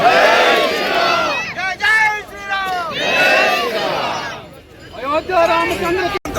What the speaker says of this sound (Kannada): ದಯವಿಟ್ಟು ನೀವೆಲ್ಲರ ಹರ್ಷೋದ್ಗಾರದಿಂದ ಅವರಿಗೆ ಸ್ವಾಗತ ಬಯಸಬೇಕು